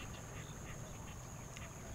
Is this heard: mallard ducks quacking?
yes